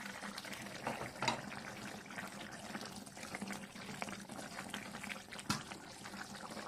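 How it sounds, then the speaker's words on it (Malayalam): Fish molee curry simmers on a low flame, a soft continuous bubbling with occasional faint clinks, close and quiet, with no talking. "അപ്പം നമ്മൾ മീൻ ചേർത്ത് കഴിഞ്ഞിട്ട് ഒരു 10 മിനിറ്റ് തിളച്ച്"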